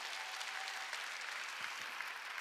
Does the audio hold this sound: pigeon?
no